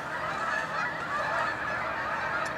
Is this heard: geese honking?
yes